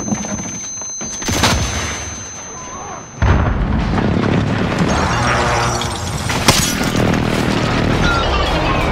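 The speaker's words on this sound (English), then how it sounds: "Airstrike inbound." Airstrike explosions in the 2019 Call of Duty Modern Warfare multiplayer match, a sharp blast near the start followed by a dense, loud run of booming detonations and gunfire rolling on steadily to the end.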